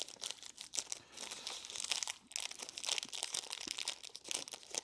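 Crinkly plastic wrapper of a 45 g KitKat Gooey Caramel bar being peeled open at the top, a close, steady run of crackling and rustling bursts with brief pauses, no voices.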